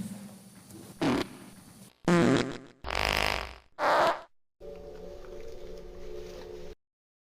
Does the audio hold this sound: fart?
yes